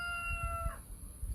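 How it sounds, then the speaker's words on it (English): A rooster crows faintly in the distance, one thin, drawn-out call that ends with a falling note, over low rumbling background noise. "There goes the rooster."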